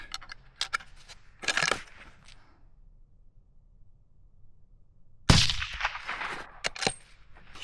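An elk rifle cartridge is fired at a target behind grass, giving a loud, sharp report with a brief ringing tail. An earlier burst of clattering noise comes before a stretch of near silence, and no voice is heard.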